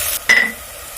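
Crushed coconut fries with onions in hot oil, giving a soft, steady sizzle with one brief clink of a spoon or pan partway through.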